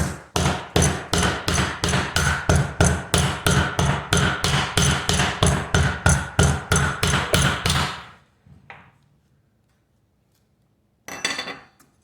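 A metal coconut opener strikes a Thai coconut's hard shell with steady, forceful blows, about two per second, sharp and close, continuing for eight seconds before a short quiet and one last knock.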